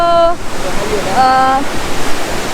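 Elephant Falls waterfall in Shillong gives a steady rushing wash of falling water, with voices and tonal calls rising over it in short bursts.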